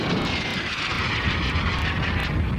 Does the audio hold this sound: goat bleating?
no